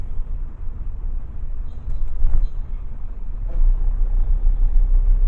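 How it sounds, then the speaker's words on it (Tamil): Road traffic rumbles around a car from inside the cabin, a low continuous engine and tyre drone that swells and eases, with muffled passing vehicles. "டிராஃபிக் இருக்கு गाइस, ஓரளவுக்கு தான் இருக்கு, ரொம்ப டிராஃபிக் இல்ல"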